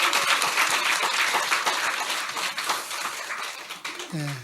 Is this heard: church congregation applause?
yes